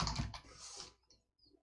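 Quick bursts of keystrokes on a computer keyboard, a rapid cluster of clicks followed by a pause and a couple of soft final taps, close and quiet.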